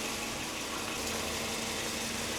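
A Toyota Land Cruiser LX470 (100 Series) engine idles steadily to warm up, a low continuous hum with a faint tonal drone, no talk over it.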